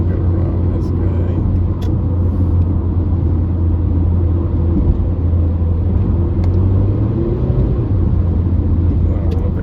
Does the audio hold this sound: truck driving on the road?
yes